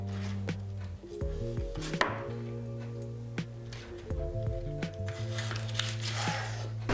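Knife halving bok choy on a cutting board, a series of crisp chops and thuds at an uneven pace, close and fairly quiet over light background music.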